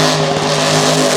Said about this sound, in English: as Cory throws it into a drifting donut.